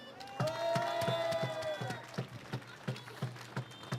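A crowd at a street demonstration petition rally applauds in steady rhythmic claps, moderately distant and fairly faint, after a voice cheers briefly at the start.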